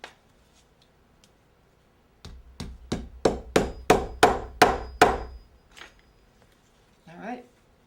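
Small nails are driven into a leather sandal strap on an anvil with about ten quick, crisp hammer taps that land in a steady rhythm, close and fairly loud. Quiet handling noises come before and after the hammering.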